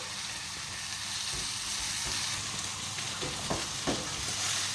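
Pork steaks fry and brown in a hot pan, giving a steady broadband sizzle throughout with a few soft clicks and spatters near the end, close and fairly even in level.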